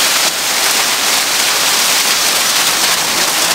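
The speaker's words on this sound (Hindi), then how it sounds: "बाहर बहुत तेज़ बारिश हो रही है" Heavy rain pours outside in a dense, steady, loud hiss that does not change and has no voices over it.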